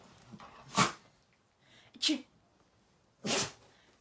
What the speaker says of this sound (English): He sneezed.